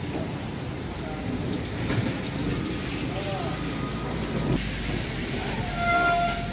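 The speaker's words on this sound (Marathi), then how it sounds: "विजांच्या कडकडाटासह आणि मेघगर्जनेसह हा पाऊस पडतोय।" Continuous rainfall hisses evenly, with low, distant thunder swelling briefly near the start and again toward the end.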